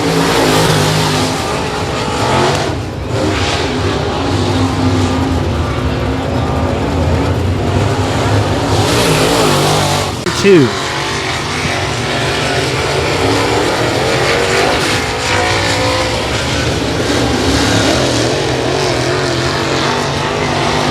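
Race car at Sabine Speedway during the Battle on the Bend, its engine roaring loudly and steadily through a timed lap, with a brief pitch sweep as it passes near the midpoint and a faint announcer voice underneath.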